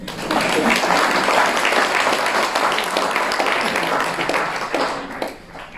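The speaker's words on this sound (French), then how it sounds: "Vous pouvez les applaudir" Audience clapping at a town New Year's wishes ceremony in Caro, a full round of applause that holds steady and then tapers off near the end, with some voices mixed in.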